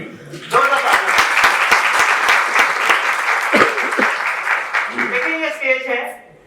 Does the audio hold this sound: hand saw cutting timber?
no